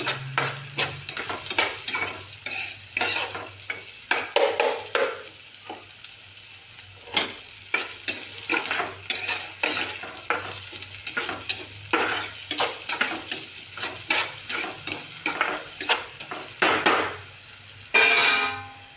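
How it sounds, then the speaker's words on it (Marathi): Diced tomato stir-fried in a pan for an eggplant dish, a steady sizzle broken by repeated close scraping and clacking of a spatula against the metal, with no talking. "छोटंसं टोमॅटो कट करून घेतलेलं आहे काय बघा छान असं परतून घ्यायचं आहे"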